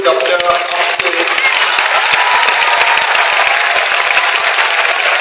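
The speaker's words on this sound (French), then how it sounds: "acclamez pour Dr. Oksopak" Steady, dense applause from a large church audience greeting Dr. Ock Soo Park, loud and continuous throughout with crowd noise mixed in.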